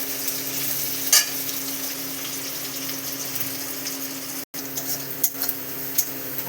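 Onions frying in a pan for a spicy tengra fish curry give a steady, close sizzle with faint stirring and utensil scrapes and a brief clink, broken by one short silent gap, with no talk.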